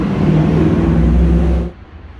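A Rover 75 car pulls out of a yard, its engine rumbling loudly and steadily close by before cutting off abruptly into quiet background hiss.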